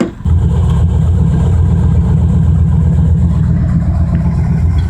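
A Mazda RX-7 with a swapped-in V8 running steadily, giving a loud, deep, continuous engine rumble close by with a slight uneven pulse and no voices.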